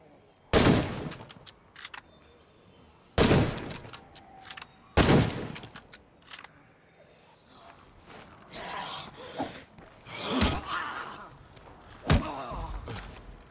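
Gunfire in the survival video game State of Decay 2, with several sharp, loud shots spaced a few seconds apart. Quieter in-game rustling, footsteps and insect chirps fill the gaps, and there is some faint speech.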